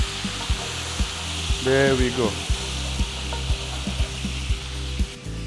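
Butter and chicken juices sizzling in a hot pan during a school cooking competition, with a steady frying hiss under repeated clicks and scrapes of stirring. A brief voice speaks in the middle.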